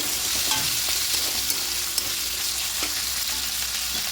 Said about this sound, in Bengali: এবার দিয়ে আলুটা একটু হালকা করে ভেজে নেব